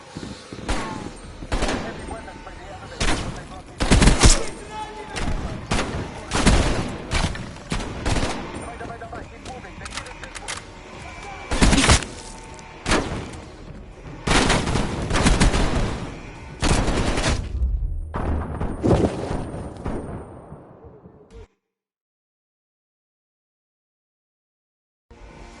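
Enemy heavy-weapons gunfire in Call of Duty Black Ops Cold War: loud, rapid machine-gun bursts and blasts come in waves with voices speaking between them, then cut to silence near the end.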